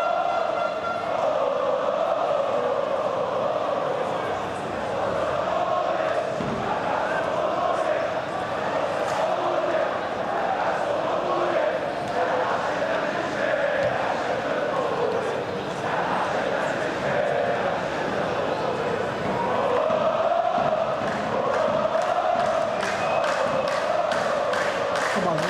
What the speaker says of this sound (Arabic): اسمعوا الجمهور